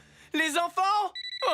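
Cartoon telephone ringing with two short, bright electronic trills after a child's exclamations, clear and close.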